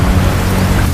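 Heavy rain pours steadily, with a deep rumble of thunder rolling beneath it, loud and dense throughout a single brief moment.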